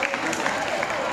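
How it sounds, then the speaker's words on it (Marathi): Audience clapping to welcome guests at a school or college hypnotism show, a steady dense patter of applause heard briefly at moderate loudness. "जोराने टाळ्या वाजवून यांचं स्वागत करावं"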